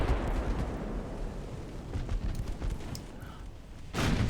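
Naval guns firing in a warship battle video game, a dense rolling barrage of booms and rumble with a heavier blast near the end.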